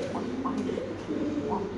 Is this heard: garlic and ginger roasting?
no